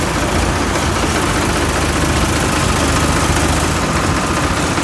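A Farmtrac tractor engine drones steadily while pulling soil in a farm field, a loud, close, continuous rumble with no pauses and no voices.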